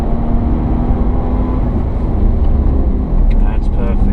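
Jaguar XF 360 hp accelerating hard on the Pamplona circuit, a loud constant in-cabin engine roar and road rumble, with an instructor talking over it.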